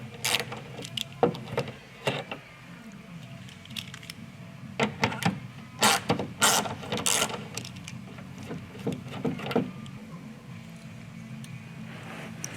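Two center screws come out of the trim on a GT500 during an install, heard as close, repeated ratcheting clicks and rattling driver bursts in uneven clusters over a quiet background.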